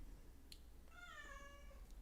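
A cat gives a single drawn-out meow, faint and somewhat distant, heard over low room noise with no talking.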